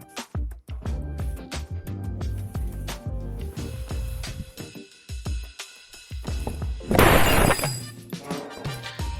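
A camera holder falls and shatters into breaking pieces, giving a loud, bright crash about seven seconds in that is preceded by scattered knocks and clatter of handling a tripod and ring light.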